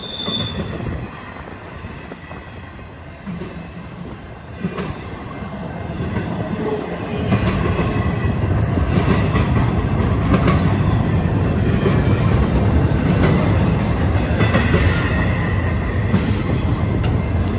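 A freight train with all-purpose spine cars (piggybacks) rolls past close by in a canyon, a heavy rumble with rhythmic wheel clatter and occasional metallic squeals, growing louder and staying sustained.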